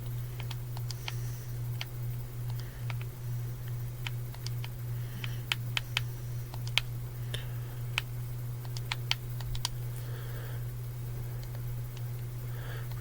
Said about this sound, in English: sorry about the controller noises